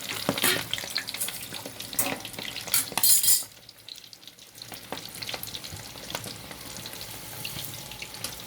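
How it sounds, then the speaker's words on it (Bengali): Singara prawns fry in hot oil with a soft crackling sizzle, louder at first with a brief burst of spattering, then settling into a quieter steady hiss. "এবারে তেলে ছাড়ছি ফ্রাই করার জন্য।"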